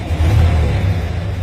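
A car engine starting and revving during an ignition test, a loud, close, steady rumbling roar with a brief swell in power and no talk over it.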